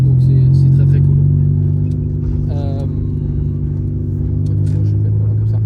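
A 90 hp car's engine revved hard past 6000 rpm: a loud, sustained rumbling drone that holds high through the clip, with a rising whine partway and people talking over it.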